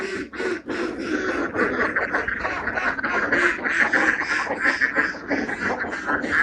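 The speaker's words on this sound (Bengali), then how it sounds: "হাঁসের ডাকগুলো অনেক সুন্দর।" Ducks on a duck farm pond quack loudly in a dense, overlapping chorus of rapid, repeated calls, nearby and continuous throughout.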